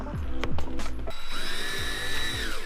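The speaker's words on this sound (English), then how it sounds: "You're drilling plastic, not metal." A power drill whines in short bursts, then runs steadily with a rising pitch as the bit bores through plastic on a VW GTI, close and loud.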